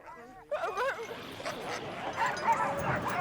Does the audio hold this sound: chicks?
no